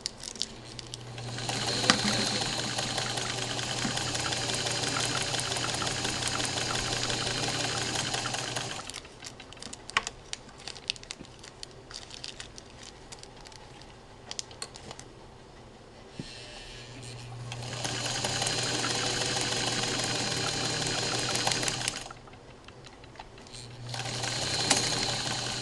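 A sewing machine stitches a knitted doll sweater for a 15-18 inch doll, backstitching to secure the seam, running in two long steady bursts separated by a quieter pause, close and loud with no talk.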